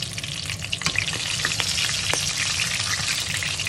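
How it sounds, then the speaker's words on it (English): Pieces of fish sizzle and crackle steadily in a pan of hot oil for curry, with a few sharp pops and faint stirring scrapes rising over the continuous close frying hiss. "I like to fry these guys a little bit before putting them in the curry"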